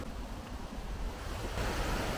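River running after recent rain, a steady broadband rush of flowing water that fills the whole stretch and grows slightly louder toward the end, with no voices.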